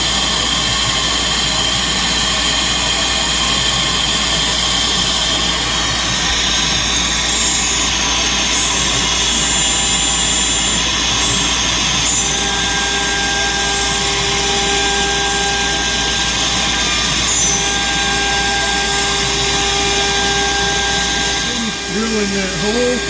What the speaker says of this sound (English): Drilling that hole, that 12mm hole